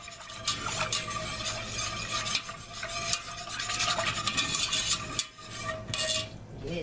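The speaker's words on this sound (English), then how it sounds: "I'm going to whisk that together very well." A whisk stirs tomato paste into a sauce in a pot on the stove, a steady close scraping and swishing that runs continuously with a soft sizzle underneath and a brief pause near the end.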